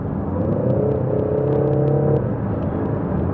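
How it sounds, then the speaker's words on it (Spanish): A 2022 Peugeot 3008 Hybrid in Sport mode gives off a synthesized engine note through its speakers, a low, husky, steady hum that rises slightly in pitch and then levels off inside the cabin. "es un coche que incluso te anima con un sonido un poco más ronco"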